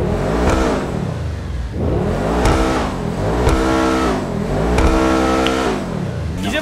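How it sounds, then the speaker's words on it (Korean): Loud, close exhaust of a Benefactor SM722 sports car driven fast through a tunnel in a video game, with repeated swelling rev cycles and gear changes echoing off the walls. "눈앞에 터널이 보이는군요. 배기음을 들어봅시다."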